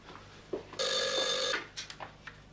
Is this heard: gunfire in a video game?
no